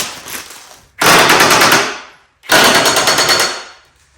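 An impact wrench tightens new mulching blades on the 48-inch deck of a John Deere L130 lawn tractor in two loud, rattling bursts of about a second each, separated by a short pause.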